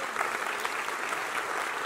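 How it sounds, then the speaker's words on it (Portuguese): An audience applauds the sponsor Insider at a Brazilian comedy show: a short, steady burst of many hands clapping together, continuous and fairly close throughout. "salva de palmas para Insider, nossos parceiros"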